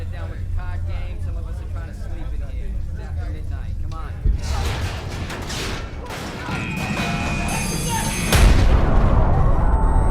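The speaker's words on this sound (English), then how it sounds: "the Indianapolis lurched as the first torpedo struck the bow end on the starboard side," Torpedo strike on the bow of the cruiser USS Indianapolis, starboard side, in a dramatized wartime scene: a low rumbling build gives way to a heavy explosive crash with clattering debris and metallic rattles, then a second loud booming impact, all under narration.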